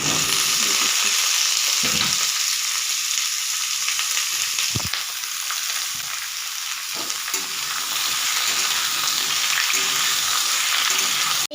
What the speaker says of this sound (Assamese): ৰঙালাওখিনি মই ভাজি ইমান ধুনীয়াকৈ দেখিছে।